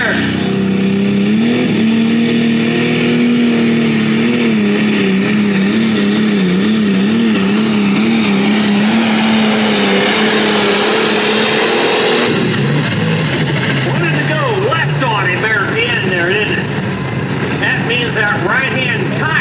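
A pulling truck's engine roars at the start of a hook at a county fair truck and tractor pull, loud and sustained with rising revs, then shifting to a rougher, harsher note partway through, with an announcer talking over it.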